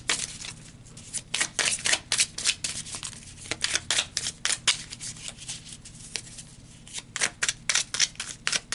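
Tarot cards being shuffled by hand during a reading, a steady run of crisp, papery riffles and slaps close to the mic, rhythmic and uninterrupted for several seconds with no talking.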